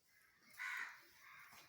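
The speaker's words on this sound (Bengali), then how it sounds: "কাকও একদিকে কাক ডাকছে" A single crow caws once, faint and distant, as a short harsh call in an otherwise quiet outdoor setting.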